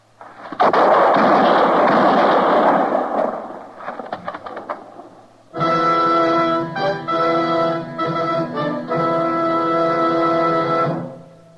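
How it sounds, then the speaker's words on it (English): Gunshots in an old-time Western radio drama ring out as a long, loud roaring blast followed by scattered cracks, then a sustained brassy dramatic music sting takes over. "I heard the shots, Matt."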